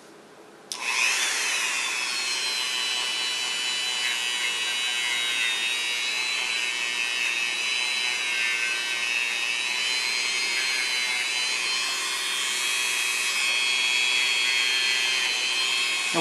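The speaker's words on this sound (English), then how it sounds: "you just use the Dremel tool on low" A Dremel rotary tool running on low speed buffs a Glock 26 trigger part, a steady close high-pitched whine that holds for the whole stretch, starting abruptly and swelling slightly toward the end.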